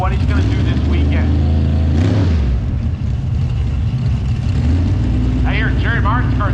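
Jerry Martin's Camaro drag race car runs hard on nitrous, its engine roaring loudly and changing pitch. An announcer talks over it.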